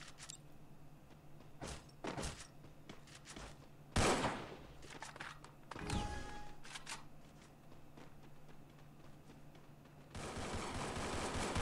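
AK rifle fire in a shooter video game, coming as short sharp bursts and single cracks spread through the stretch, with mechanical clatter and a steady hum between shots and a noisy swell at the end.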